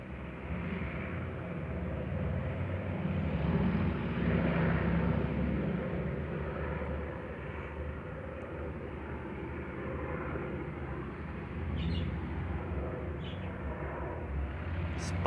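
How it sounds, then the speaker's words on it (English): A white helicopter passes overhead as a continuous low rumbling drone. It swells and fades slightly, with no one speaking. "That white helicopter again."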